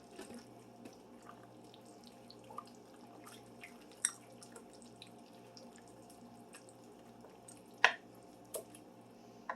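Quiet wet squishing and scraping of turkey chili ingredients with tomatoes being stirred in a Dutch oven, with a few sharper clinks of a utensil against the sides.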